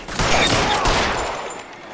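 Incoming gunfire strikes the player in a Rockstar video game. A loud burst of rapid shots and impacts hits at once, then trails off into a fading rumble.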